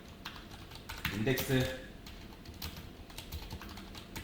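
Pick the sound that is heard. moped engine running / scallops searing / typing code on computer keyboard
typing code on computer keyboard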